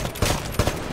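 Rapid automatic gunfire rattles in a Titanfall match, dense overlapping shots forming a continuous fusillade with a couple of heavier thumps, all within about a second.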